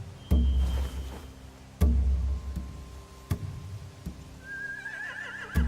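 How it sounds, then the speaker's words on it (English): Horses neigh in a video game scene; a loud whinny rises near the end, set among repeated heavy thuds and faint ambient noise. "They have horses."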